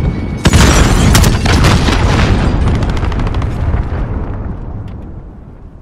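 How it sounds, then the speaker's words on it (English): A cruise missile strike in a first-person shooter game lands with a sharp, loud blast followed by a rolling, crackling rumble of debris that slowly fades over several seconds. "Allied cruise missile."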